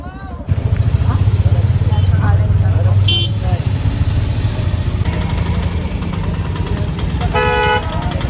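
A car approaching on the road: a steady, loud engine rumble with sharp horn toots near the middle and end, while people talk over it.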